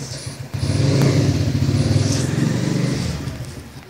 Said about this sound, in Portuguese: Opa, galera, me desculpe pelo barulho da moto.